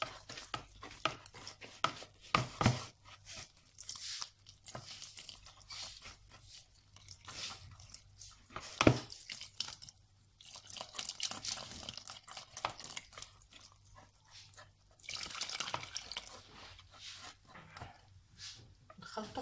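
Milk being poured into crepe batter for chocolate crepes while it is whisked, giving quiet intermittent splashes, taps and scrapes of the whisk, fairly close and soft, with a few sharper clicks.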